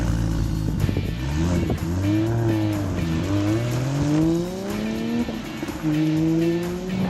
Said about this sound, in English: Here we are punching all this power through the wheels.